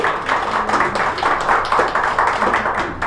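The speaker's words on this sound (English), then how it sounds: "Let's give them a big round of applause." Wedding guests at a Las Vegas chapel applauding a couple's 50th-anniversary vow renewal, a small crowd clapping steadily and fairly loudly at close range throughout.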